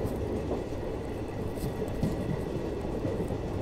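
Indian Railways train on the Jaisalmer route running past semaphore signals, a continuous dense rumble and rattle of rolling coaches heard from on board, steady throughout with no talking.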